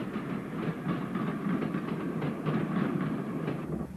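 An electric locomotive of the Class 76 type runs past on the Woodhead Line in the 1950s, giving a steady, loud rumble of wheels and wagons with faint rhythmic clatter throughout, no voices.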